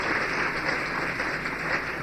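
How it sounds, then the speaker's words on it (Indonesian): A church congregation applauds loudly during a sermon, a steady, dense wash of many hands clapping at once that holds even and full for the whole stretch. "Beri tepuk tangan yang meriah kepada Tuhan."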